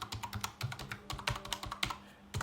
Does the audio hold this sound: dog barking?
no